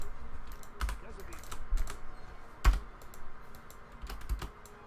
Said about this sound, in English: The fastest way of doing this is by clicking with the mouse and pressing numpad enter.